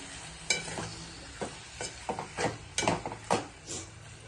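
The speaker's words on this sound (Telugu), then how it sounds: "టమాటాలు వేసిన తర్వాత ఒకసారి బాగా కలుపుకోవాలి" Tomatoes being stirred into a sizzling pan for Telugu-style tomato egg curry, with a series of irregular scraping and clattering strokes of a spoon against the pan over a soft frying hiss.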